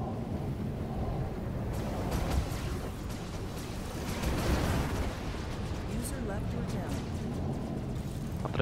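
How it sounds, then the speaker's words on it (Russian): Missiles fired by Vanduul craft in the space game Star Citizen exploding in pink bursts: low, rumbling booms that roll continuously and swell twice, heard beneath someone speaking. "Какой-то розовый взрыв от этих самых."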